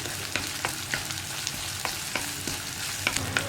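Okra and egg thoran fries in a pan while being stirred, a steady sizzle broken by regular sharp scrapes and clicks of the spoon, close and alone.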